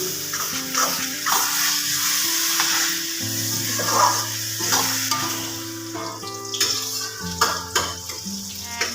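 Grated carrots frying in ghee for gajar halwa, a steady loud sizzle with clattering stirring strokes against the pan, while tonal music plays underneath.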